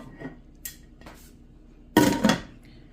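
A metal lid goes onto a pot of beef stew, with a few light clinks first and then a loud, close clatter as it settles.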